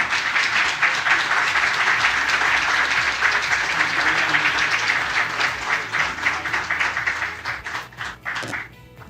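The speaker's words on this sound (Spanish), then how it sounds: "dándole un aplauso a Juan Eduardo." Audience applause at a book launch event, a dense sustained clapping from a room full of people that holds steady for several seconds, then thins out and tapers into scattered claps near the end.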